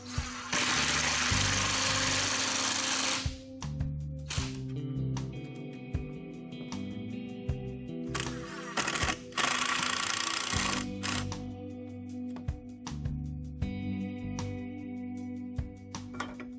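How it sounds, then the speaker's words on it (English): Screws driven with a power drill into the back of a 2x4 outdoor bench end frame: two long bursts of whirring drive with a steady broadband hum, separated by clicks, taps and handling noise, close and fairly loud. "the screws go in the back of the end frame"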